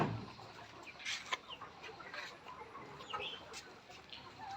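Layer hens in farm cages cluck and squawk in scattered short calls, some nearer and some farther off, fairly faint against a low steady background.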